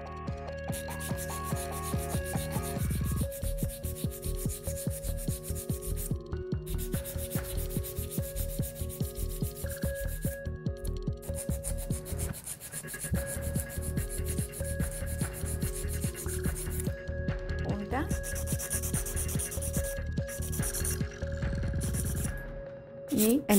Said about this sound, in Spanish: Y vamos a comenzar limado con la lima 150-150 Deken para cuadrar la uña. Vamos a limar laterales